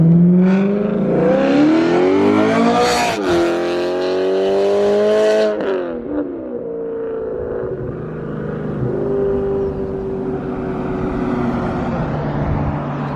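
A BMW E90 with a straight-pipe X-pipe exhaust revs hard nearby, rising to a sharp, very loud peak, then dropping off and settling into a rough, droning idle with small blips.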